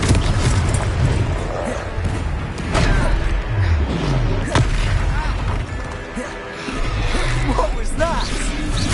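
A Confringo blasting curse in the Hogwarts Legacy video game erupts amid a loud, dense battle mix, with booming hits, roaring and crashing impacts layered over continuous game music and effects.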